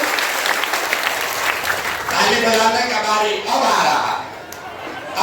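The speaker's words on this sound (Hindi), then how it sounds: "अब ताली बजाने का बारी है" A crowd at a Bihar political rally claps loudly in a thick, sustained wash that dips and then swells again, while a speaker's voice carries over the applause.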